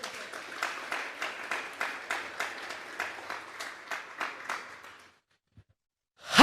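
A church congregation at a Sunday service claps together in steady rhythmic bursts for about five seconds, fairly close and even, then falls silent; no one speaks.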